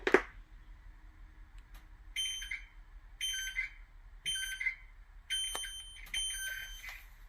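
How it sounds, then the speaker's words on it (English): A series of short electronic beeps and chirps from a Child Check-Mate Theft Mate key fob sounds in separated bursts, fairly close, after an initial sharp tone, with a low hum underneath. "You'll hear a few beeps beforehand."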